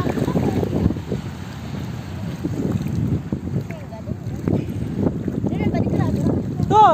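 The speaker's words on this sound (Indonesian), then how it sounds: "Ombaknya datang." Ocean waves roll and break at Mertasari beach, a steady low wash and rumble with wind buffeting the microphone, while voices chatter faintly in the background.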